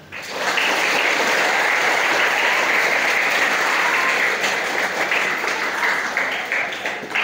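Sustained applause from an audience at an Islamic boarding school event in Tasikmalaya, dense steady clapping swelling quickly and holding loud for several seconds before easing slightly.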